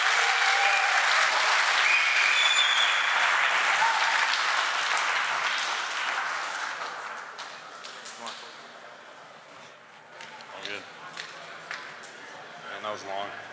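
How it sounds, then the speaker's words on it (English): A conference audience at the close of Polycon gives a thunderous round of applause: dense, loud clapping for about six seconds that gradually thins into scattered claps and crowd chatter. "One more thunderous round of applause for everybody."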